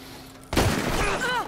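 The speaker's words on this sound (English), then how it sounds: "He shot me." A sudden loud gunshot bursts out in the Red Dead Redemption 2 game, followed by a rumbling echo with game score and voice-like tones trailing after.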